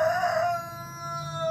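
A rooster crows loud and close, with one long drawn-out call that tapers off, then a faint steady tone and low background hum afterwards.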